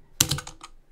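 Fingers tap out a short run of four or five crisp keystrokes on a computer keyboard, close and clear, fading quickly into quiet.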